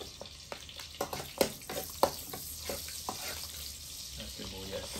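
Garlic sizzling and frying in a pan, a steady crackle broken by scraping stir sounds and clinks, with a voice speaking briefly over the cooking.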